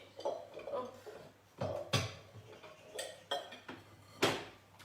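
A salad bowl handled on a kitchen counter while making chocolate crepe batter: a series of clattering knocks and clinks of bowl and utensils, fairly close, with quiet gaps between them.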